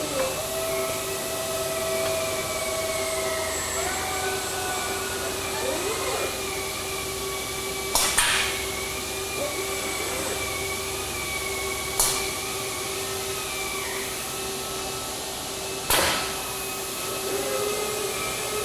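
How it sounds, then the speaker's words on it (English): Automated lathe machining parts on a factory production line: a steady loud industrial hum and whine with droning tones that waver, broken by three sharp metallic clanks at regular intervals, no talking. "At this point here, the lathe can start machining the part."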